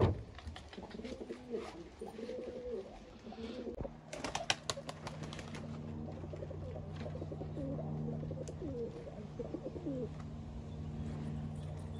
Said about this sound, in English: We're out in the garden with the birds. Let the pigeons out.